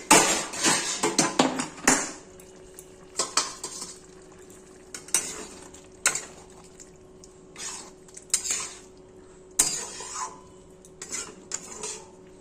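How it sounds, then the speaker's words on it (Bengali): Metal pot lid lifted off a simmering pot of Bengali mixed-vegetable curry in a home kitchen, giving a series of close clanks and scrapes with soft cooking sizzle beneath, no talking. "বন্ধুরা ডাকনা তুলে দেখাচ্ছি"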